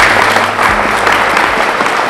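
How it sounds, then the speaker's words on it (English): Wedding guests applaud the newly married couple, a loud, dense round of clapping from a crowd with faint music underneath. "We congratulate them with a round of applause."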